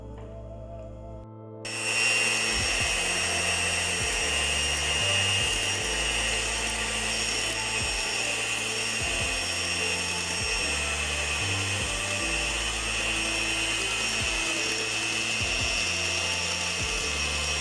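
An electric hand mixer whips dalgona coffee, starting abruptly after a short quiet moment and then running as a steady, loud motor whir with rhythmic pulsing as the beaters churn the mixture.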